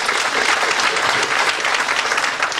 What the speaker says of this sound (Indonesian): boleh beri satu tepukan buat leader saya